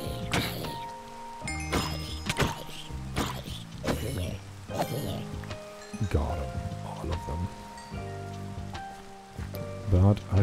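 Rain falls in Minecraft as soft, irregular patters and drips, heard at low volume beneath scattered sharp game sounds and clicks throughout.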